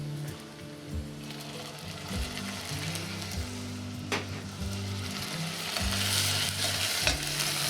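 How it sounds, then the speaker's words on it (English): Browned onions and lentils fry in oil in a pan, a steady sizzle with occasional stirring scrapes that grows a little louder and brighter near the end, with no speech. "Fry some onions in a little bit of oil."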